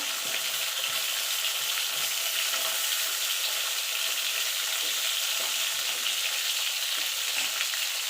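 Pointed gourd (potol) pieces fry in hot oil, giving a loud, dense and continuous sizzle that stays even from start to finish, close up and with no voices.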